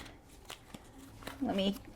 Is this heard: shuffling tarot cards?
yes